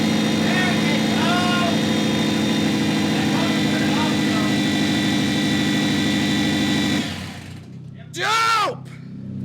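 A Subaru Legacy GT engine runs with an open turbo on its first start, a loud, raw drone that holds steady for about seven seconds and then drops away. A short rising whoosh follows, and voices chatter over the engine.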